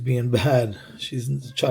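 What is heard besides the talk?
No distinct noise like a dog, phone or traffic.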